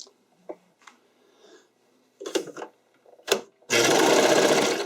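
A sewing machine stitches a seam on a skating dress, a few short hesitant bursts first, then a loud continuous run of rapid stitching at the end.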